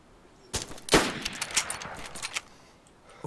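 Bursts of gunfire in the survival game DayZ, a sharp close shot followed by a rapid scatter of quieter, more distant reports over a few seconds, with no talking.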